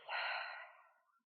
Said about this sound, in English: Welcome a last deep breath.